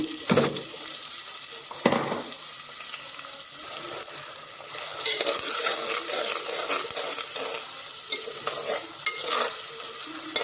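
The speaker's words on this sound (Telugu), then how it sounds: "ఆయిల్ కాగిపోయింది. మనం ఉల్లిగడ్డలు వేసుకుందాం." Onions drop into hot oil in a clay pot for a village-style fish curry, giving a steady hiss and crackle with a few louder sputters and stirring scrapes, close and continuous.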